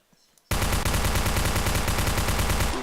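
After a brief quiet moment, a loud, sustained burst of rapid automatic fire from a TMP or MP5 submachine gun blasts without pause in the blocky shooter game Blockade3D.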